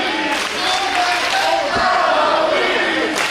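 A professional wrestling audience at a Power Pro Lucha lucha-style show, a loud dense crowd roaring and chanting continuously, with a few individual voices rising out of the noise.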